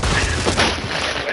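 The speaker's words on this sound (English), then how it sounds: "Throwing flash." A flashbang grenade goes off in Call of Duty MW3: a loud, brief burst of blast noise with gunfire-like crackle, close and dense, with no voice over it.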